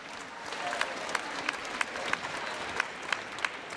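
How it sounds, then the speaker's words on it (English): Band festival crowd applauds Mr. Holbrook and the staff, dense continuous clapping from a large audience with a few louder individual claps punctuating it at a regular pace. "Give Mr. Holbrook a round of applause and all of the staff."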